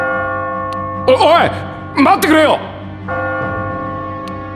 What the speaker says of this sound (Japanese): 鐘の音が聞こえたらゴールはもうすぐだ。